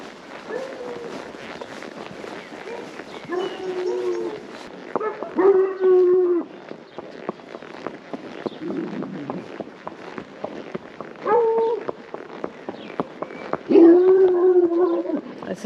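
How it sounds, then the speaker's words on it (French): Big dogs barking and howling outdoors in the countryside, a continuous chorus of overlapping barks with sustained howls rising at intervals, moderately distant, mixed with rustling. "Oh, il y a du gros chien."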